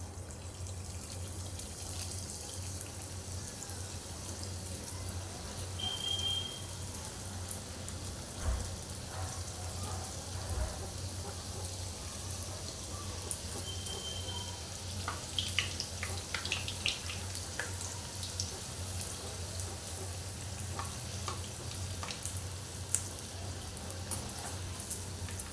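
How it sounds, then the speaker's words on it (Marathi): Fresh coconut karanji pastries frying in hot oil give a steady, fine crackling sizzle, like light rain, that runs continuously and close, with a few faint clinks over it. "छान अशा गोल्डन कलरवरती आपण आपल्या करंजा तळून घेऊया सुंदर।"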